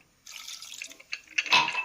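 Half a glass of water pours and splashes into a cooking pot for a couple of seconds, growing louder and fuller toward the end.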